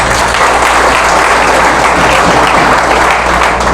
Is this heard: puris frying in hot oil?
no